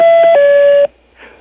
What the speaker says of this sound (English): Let's ring her one more time.